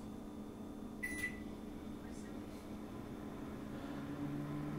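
A Panasonic microwave oven runs with a steady, faint low hum, broken by a couple of brief high beeps near the start.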